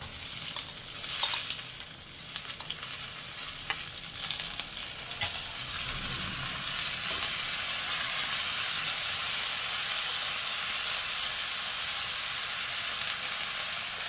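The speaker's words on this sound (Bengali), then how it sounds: "এই চালটা পুরোটা দিয়ে দেবো" Rice sizzles and hisses steadily in a hot pan for basanti pulao, with a few stirring clinks and scrapes early on, close and continuous with no talk.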